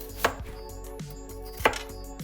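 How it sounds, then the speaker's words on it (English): A knife cuts potatoes on a cutting board for a channa and potato curry, giving two sharp, crisp chops about a second and a half apart in a quiet kitchen with a softer knock in between. "after washing my potatoes, I'm gonna cut them up nicely like that so they can cook fast."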